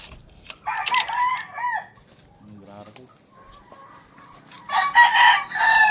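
A gamefowl stag rooster crows, with two separate calls close to the microphone over faint background noise, the first around the one-second mark and a second, longer crow near the end.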